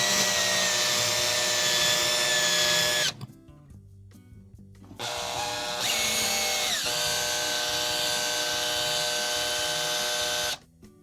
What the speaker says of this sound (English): use your drill and just kind of go around to loosen it up a little bit